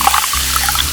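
Whipping cream poured in a brief, smooth liquid stream into a miniature pan, close and fairly loud for about a second.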